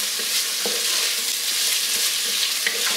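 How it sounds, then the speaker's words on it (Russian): Vegetables fry in a Redmond multicooker with a bright, continuous sizzle and occasional stirring scrapes, close up with no talking. "Высыпаю сюда овощи. И обжариваю не сильно, так слегка до золотистого цвета."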